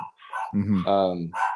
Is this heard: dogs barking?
yes